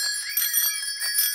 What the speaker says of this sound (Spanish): ¿Qué campana suena más fuerte?